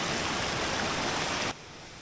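A forest river in the western highlands of Panama rushes steadily at a crossing. The broadband roar stays loud and constant, then drops off abruptly near the end.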